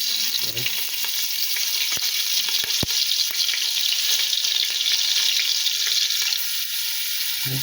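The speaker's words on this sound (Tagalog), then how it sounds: "magigisa po ako ng sibuyas bawang uli kasi para doon sa ating kulay" Onion and garlic sauté in a pan for pansit bihon, with a constant, close hiss of frying oil and a few sharp taps and scrapes of a utensil, no one speaking.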